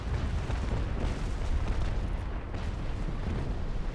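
Ship cannons boom in the naval combat game Naval Action, a dull rumbling volley of muffled blasts rolling together at moderate distance with no talk.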